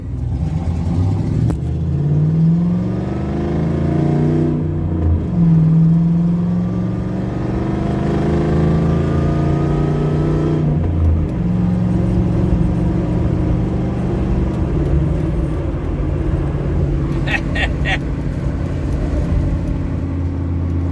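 A Dakota truck fitted with air suspension accelerating hard along a road, loud close engine and exhaust climbing through gears with shifts and a steady mid-frequency drone, no talking.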